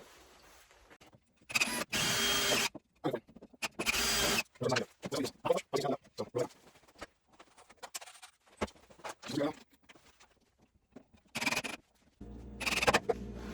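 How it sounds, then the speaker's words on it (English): Several short bursts of a power drill pre-drilling screw holes for a wooden observation beehive, whirring on and off, with brief pauses between runs and quieter handling noises in the gaps. "But we definitely want to pre-drill the holes."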